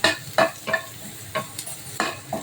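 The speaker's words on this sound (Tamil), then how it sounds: "ஆனியன் நல்லா ஃப்ரை ஆகட்டும்" Onion frying and being stirred in a pan, with several close, short scraping stirs over a soft sizzle and no voices.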